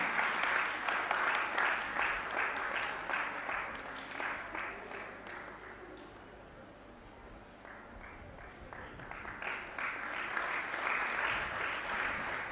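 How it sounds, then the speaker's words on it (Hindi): A large audience applauds to welcome someone speaker at a university gathering, sustained clapping that dips slightly midway and swells again, with faint voices underneath. "आप लोग जोरदार तालियों से स्वागत कर दें सुचित्रा जी का।"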